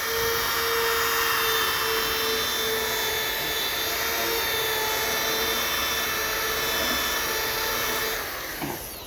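A rotary sanding disc works over a dome under light, even pressure, giving a steady, loud whirring drone that holds almost unchanged for about eight seconds before tapering off at the end.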